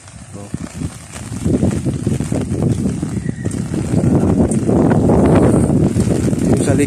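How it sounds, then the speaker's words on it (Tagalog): Strong wind during Typhoon Goring beside a badly damaged structure with loose roofing sheets, a loud, steady roar and gusting buffet that builds over time and rises toward the end, mixed with a man's speech throughout. "Lakas pa ng hangin,"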